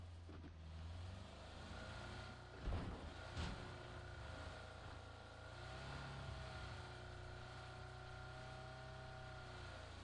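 A car in PUBG drives steadily while running low on fuel, its engine a constant low hum throughout with a brief louder burst near the middle.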